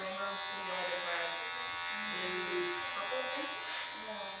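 Electric hair clippers buzz steadily at close range while fading a haircut, a continuous whine under a person talking.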